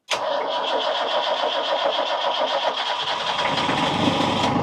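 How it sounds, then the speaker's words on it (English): A sailboat's motor cranks and catches at once, then runs as a loud, steady close-up drone that roughens slightly near the end. "Let's start the motor."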